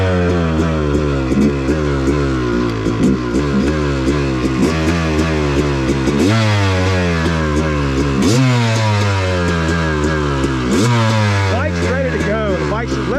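A dirt bike engine on an off-road OHV trail revs hard and continuously up close, its pitch climbing and falling through repeated throttle blips and gear changes with no pause.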